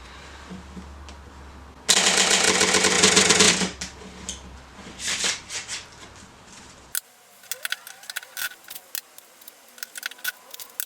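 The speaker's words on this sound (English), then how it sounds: "But now we're going to just shuffle these all up." Several rapid riffles of a deck of playing cards come up close, a dense fluttering burst, then softer bridging and clicking shuffles with scattered taps of the cards.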